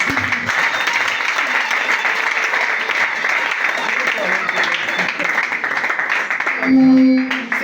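Audience applause at a religious deliverance service, a dense sustained wash of clapping that runs steadily throughout, with a brief louder tonal sound near the end.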